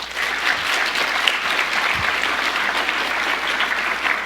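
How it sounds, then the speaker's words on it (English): A crowd at a National Honor Society induction ceremony gives the advisors a round of applause, dense and steady clapping that holds at an even level throughout. "Can we give them a round of applause?"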